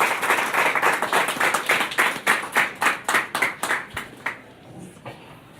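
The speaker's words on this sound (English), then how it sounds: "Let's give another round of applause to Commander Moriyama" Applause for Commander Moriyama at a veterans' honor event: a short burst of distinct hand claps from a small audience, fairly close and loud at first, thinning and fading out over about four seconds, with no talk over it.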